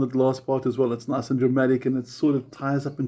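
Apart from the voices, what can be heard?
None of the usual background noises is heard.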